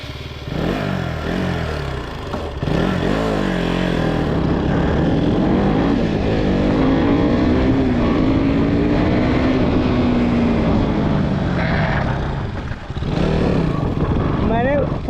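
A Duke motorcycle engine runs steadily while being ridden, its drone rising and falling in pitch as it accelerates, with a voice talking over it.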